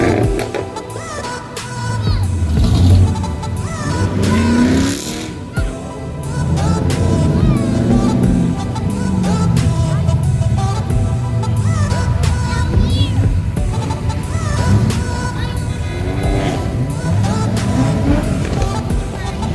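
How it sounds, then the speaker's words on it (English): Several cars leave a car meet in Bowie, Maryland, with engines revving and accelerating hard, loud overlapping rising and falling engine notes passing close by amid crowd noise. "Too many cars leaving."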